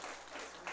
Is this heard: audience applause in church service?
yes